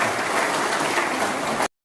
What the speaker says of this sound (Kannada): ತಮ್ಮೆಲ್ಲರೂ ಚಪ್ಪಾಳೆ